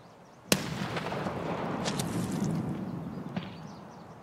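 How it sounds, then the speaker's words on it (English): A grenade in the Escape From Tarkov video game goes off with one sharp, loud blast, followed by a sustained roar and a few fainter pops. "Grenade on me"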